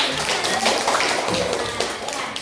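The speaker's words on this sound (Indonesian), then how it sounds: "Nah, tepuk tangan." A class of children claps together during a coding and artificial-intelligence lesson, a brief, steady burst of hand claps filling the room with light voices underneath.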